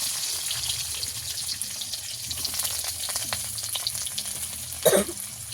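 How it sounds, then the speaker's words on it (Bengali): Cumin seeds, curry leaves and dried onion crackle in hot oil as a tempering, a steady close sizzle with one louder burst of spattering near the end. "ফোড়নে দেবো জিরে দিয়ে দেবো কারি পাতা দিয়ে দেবো শুকানো পেঁয়াজ"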